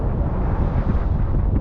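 Strong wind gusting on the Lake Superior shore at sunset, a dense, continuous roaring rush battering the microphone with no break.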